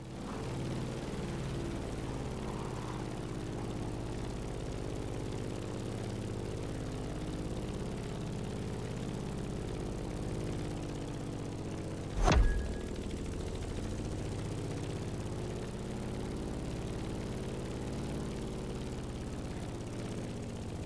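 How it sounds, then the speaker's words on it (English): A Grumman F8F Bearcat propeller fighter drones at a steady, even pitch in The Crew Motorfest racing game, a constant engine hum interrupted once by a brief sharp click midway. "In the cockpit of a stunning Grumman F-8F Bearcat, or simply the Bear."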